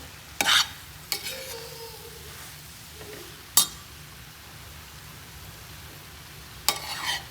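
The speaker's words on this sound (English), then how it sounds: "now I am going to add the tamari sauce. And stir again." Quinoa with carrots, sesame oil and tamari sauce stirred in a hot pan, a low sizzle underneath a few isolated, sharp scraping strokes spaced seconds apart.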